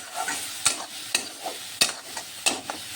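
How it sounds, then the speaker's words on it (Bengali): Malabar spinach leaf filling stirred and fried in a pan, with a steady close sizzle punctuated by four or five sharp, regularly spaced scrapes of a spatula against the pan. "এটাকে এখন ভালোভাবে কষিয়ে নিতে হবে"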